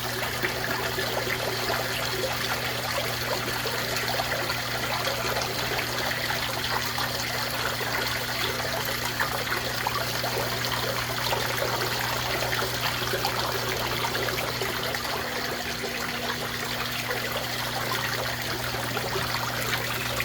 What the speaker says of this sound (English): The Lint catcher at work.